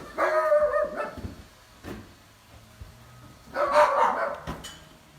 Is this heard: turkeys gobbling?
no